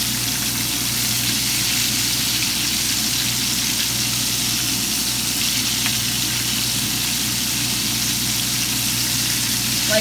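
Whiting fillets frying in a hot pan, a steady close sizzle with a constant low hum underneath, continuous and even for the whole stretch with no talking.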